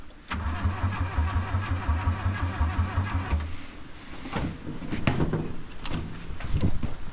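A gas engine cranks over and over in a rapid, rhythmic churn for several seconds, then sputters and coughs without catching, followed by clunks and rattles.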